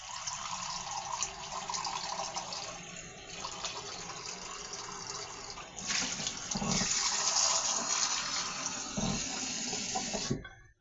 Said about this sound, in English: I'm gonna put some water here.